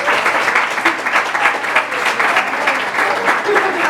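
An audience applauds at a lecture, sustained, loud, even clapping from many hands close by, with a voice faintly audible underneath.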